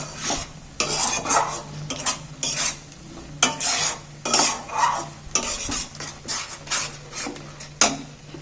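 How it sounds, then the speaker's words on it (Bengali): Ground spinach paste for an onion- and garlic-free palak paneer is stirred and sautéed in hot oil, a spoon scraping the pan in repeated uneven strokes over a steady low sizzle, close and fairly loud with no voices. "এইবার আমি তেলটার মধ্যে এটাকে একটু নাড়াচাড়া করে একটু ভালো করে কষিয়ে নেব"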